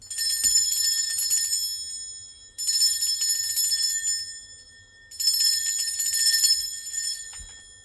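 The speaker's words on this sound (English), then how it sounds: "you just don't like the sound of bells" Bright, high metallic bells ring in three sustained bursts with short gaps between them, close and clear, with no voices.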